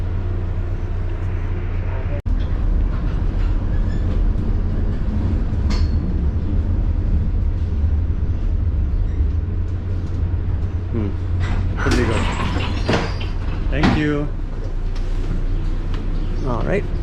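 A historic Cincinnati streetcar that ran 1939–51 rides through San Francisco toward Fisherman's Wharf, giving a steady low rumble of motor and wheels with rattling and squealing bursts near the end while people talk throughout.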